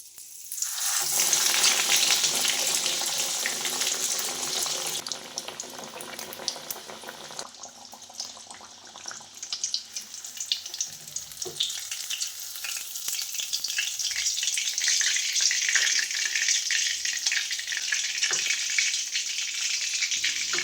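Crisp fish fry in a pan, a loud, dense hiss of frying oil that eases midway, then swells again with light clatter, no speech.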